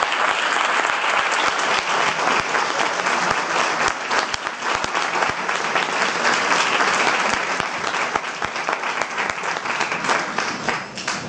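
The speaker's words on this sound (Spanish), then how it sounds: "un fortísimo aplauso para Ana María Vázquez Ois" An audience applauds a speaker at a lecture, sustained loud clapping from many hands that holds steady for over ten seconds, easing only slightly near the end.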